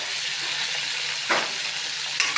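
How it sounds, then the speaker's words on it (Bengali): Fish frying in a pan with taro stems gives a steady, close hiss and sizzle, broken by a couple of brief louder crackles as the pieces are stirred or moved. "ভালো করে ভাজতেছি, রান্নাটা ভালো করে করবো।"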